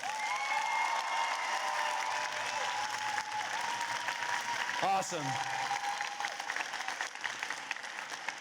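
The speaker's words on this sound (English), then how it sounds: "Give them one more applause." Sustained audience applause fills a hall at the FTC Benelux League Championship 2024 robotics competition, steady and dense throughout, with a brief spoken word cutting in near the middle.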